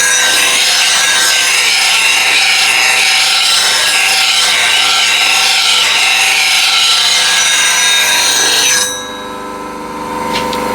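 A blade being ground on a grinder to an asymmetric grind with a full curve on the wings. Loud, steady, continuous abrasive grinding runs for about nine seconds, then cuts off and leaves a quieter tail.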